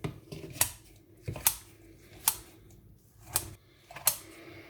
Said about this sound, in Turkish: kesinlikle böyle bir makastan geçirmenizi tavsiye ederim